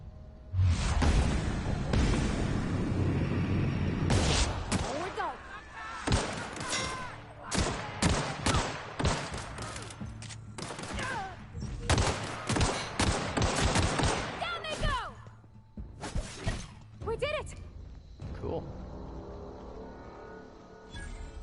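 Pistol shots in the sci-fi game The Outer Worlds, loud sharp cracks fired in quick irregular clusters with occasional game effects between them, fading toward the end.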